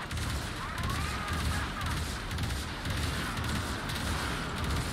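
A cruise ship reactor detonating in the video game Warframe, a sustained crackling, rumbling barrage of blasts and low booms lasting several seconds, fairly distant and steady amid space combat noise.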